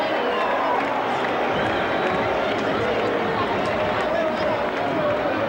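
A crowd of 15,000 at Loftus Versfeld greets the 1999 All Blacks rugby team with a dense, steady roar of cheering and noise, loud and continuous, with a commentator's voice running over it.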